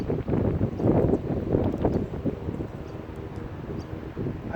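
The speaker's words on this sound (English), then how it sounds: "the wind is all over the place, as you can see on my shirt" Gusty outdoor wind buffets the microphone during fly casting with a 9-foot 10-weight rod, a loud, uneven low roar that swells and eases.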